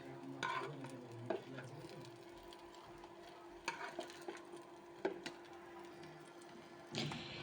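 Fried elephant foot yam pieces lifted one by one from a hot pan, a faint steady oil sizzle broken by occasional soft scrapes and knocks of the utensil against the pan, close and quiet without talk.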